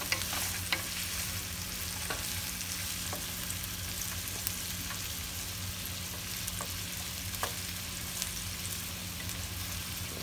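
Meatballs for spaghetti sizzle steadily in a frying pan, with occasional clicks and scrapes as they are rolled and turned, a constant close frying hiss throughout.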